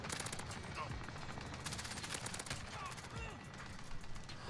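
Rapid automatic fire from an MP7 submachine gun in a shooter game, crackling in quick bursts amid other gunfire and background game noise, with a voice talking over parts of it.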